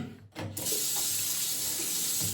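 A bathroom tap is turned on to run water for a wet shave, starting with a brief clunk and then settling into a steady, close gushing stream.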